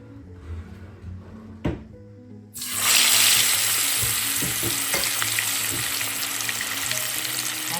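Hilsa fish pieces hit hot oil, setting off a sudden loud hissing sizzle after a couple of quiet knocks, then a steady crackling fry with spitting pops and occasional clinks.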